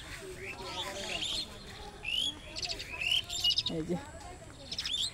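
A small bird that cannot fly chirps close by in short, bright tweets scattered through the recording, with a person speaking briefly over it.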